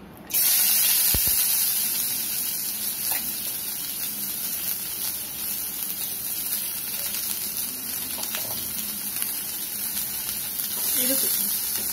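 Chopped onions with salt sizzling in a pan for an egg omelette: a constant bright hiss of frying that starts abruptly and holds steady throughout, close and moderately loud, with a few faint clinks.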